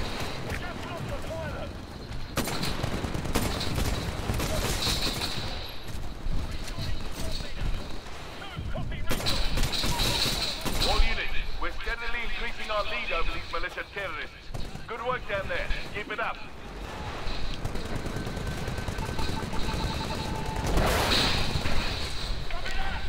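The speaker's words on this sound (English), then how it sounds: "If you're looking for a good anti-Titan gun, you found it. This thing does a lot of damage" An anti-Titan gun firing in the game Titanfall, with heavy shots and booms in bursts amid constant gameplay noise, while someone talks over the action.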